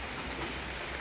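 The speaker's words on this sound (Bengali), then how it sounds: "হ্যাঁ সুন্দর বৃষ্টি পড়ছে, আমাকে আর জল দিতে হবে না গাছে।" Steady rain falls outdoors onto plants and surfaces, making a soft, even, continuous patter that stays moderately quiet and unbroken throughout.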